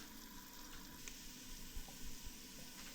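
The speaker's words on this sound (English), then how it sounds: "So we allow this to fry for about 3 minutes" Food frying in a pan for Nigerian jollof rice with chicken, a quiet, even sizzle with faint crackles throughout and no voices.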